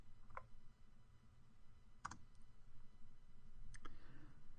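Faint computer mouse clicks, a few sharp quick presses spaced apart, heard in a quiet room with no talking, as a property value is cycled in a software editor.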